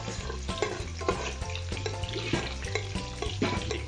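Garlic fries in cooking oil with a steady crackling sizzle, punctuated by rhythmic scraping knocks of a utensil stirring the pan, moderately faint and close.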